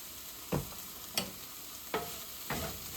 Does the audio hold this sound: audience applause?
no